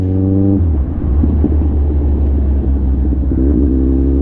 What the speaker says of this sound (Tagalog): Kawasaki Ninja 1000cc.